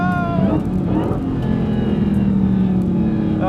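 Muscle car launching at a drag race on cold tires, engine revving hard with tires spinning in a loud, close roar that holds through the launch, a short burst with no talk.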